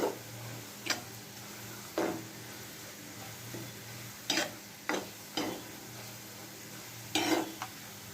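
Sliced onions fry in hot oil for crisp beresta, a low steady sizzle punctuated by about eight distinct clinks and scrapes of a spatula against the pan.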